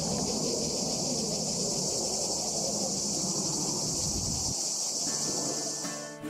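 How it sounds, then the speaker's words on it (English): Cicadas drone outdoors in Greece, a loud steady buzz that fills the whole stretch before fading at the end, with no one speaking. "there's just these overly obnoxious ambient cicada noises everywhere in Greece"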